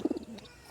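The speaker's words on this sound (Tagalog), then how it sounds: "Ito mga kalapatids" Pigeons give a brief, soft coo of a few low pulses close by.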